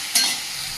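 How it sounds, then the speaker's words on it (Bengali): Potatoes frying in hot oil give a brief, close sizzle with a sharp crackle at the start, then a steady hiss over the short moment. "তেলটা অনেকটাই গরম হয়ে গেছে আলুগুলো বেশ ভালো করে ভেজে নেব"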